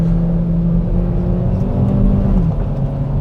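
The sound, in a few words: Kia Proceed 2023 car driving on circuit roads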